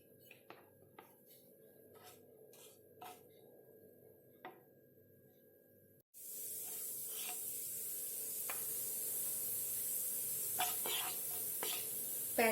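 Cumin seeds dropped into hot oil in a pan for a spiny gourd (kakora) fry. Faint utensil clinks come first, then an abrupt, steady hiss of sizzling sets in partway through and carries on loud and close.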